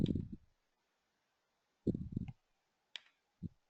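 Computer mouse clicks in a quiet room: a few sharp, isolated taps spaced apart, close and fairly soft, with no talking over them.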